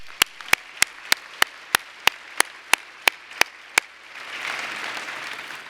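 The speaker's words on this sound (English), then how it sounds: "Let's give them one more round of applause." A single person clapping at a steady, even rhythm during a conference keynote award segment, a dozen sharp claps, followed by a soft wash of distant crowd noise.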